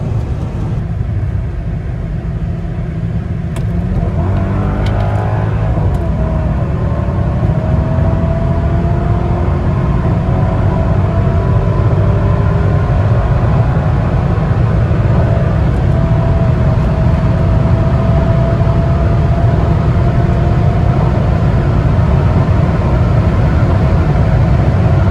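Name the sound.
Mercedes E55 AMG car accelerating on a pull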